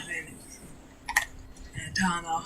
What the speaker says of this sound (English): can you mute while you're typing?